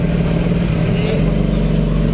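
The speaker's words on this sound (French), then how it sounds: "la Mustang s'en va." A Ford Mustang engine drones steadily as the car pulls away at a car meet, close and fairly loud, with a low, even rumble throughout.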